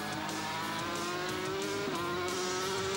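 A 500cc Grand Prix racing motorcycle lapping an Argentinian circuit during 1999 practice, its high-revving engine whining loud and continuous with pitch rising through the gears, with a brief dip at a gear change.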